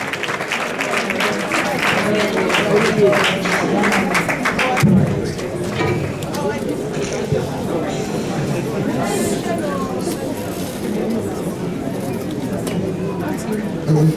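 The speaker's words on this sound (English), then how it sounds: "let's welcome him with a round of applause" Audience applause welcoming the deputy minister for finance at a skills-for-jobs project launch, a dense steady clapping for about five seconds that gives way to crowd chatter and a speaking voice.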